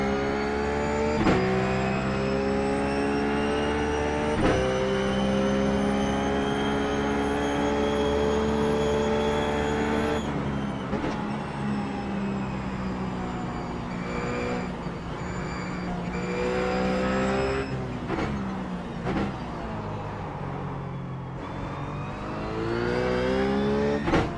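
A Ruf GT3 race car at Phillip Island in iRacing drives a steady, loud engine drone, with the pitch rising through each gear and dropping sharply at shifts, running on alone.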